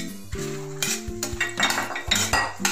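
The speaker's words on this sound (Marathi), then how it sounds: "आता यामध्ये आपण हा शिजवून घेतलेला भात घालूयात" Cooked rice tipped into a pot of spiced Karnataka-style bisi bele bath with cauliflower and stirred in, bringing clinks and scrapes of a metal spoon against the pot, several bursts over a low steady hum.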